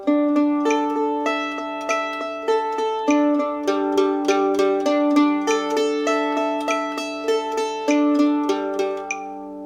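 Electric or acoustic guitar picking a two-notes-per-string exercise with alternating downstrokes and upstrokes, steady even notes stepping up and down the neck, close and clear with no talking.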